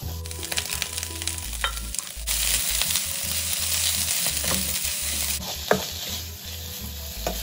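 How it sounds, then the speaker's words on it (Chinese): Cabbage, onion and mackerel stir-fried in a hot pan after garlic, giving a steady loud sizzle broken by scraping spatula strokes and occasional clinks. "在蒜末爆香后，再将包菜加入拌炒。"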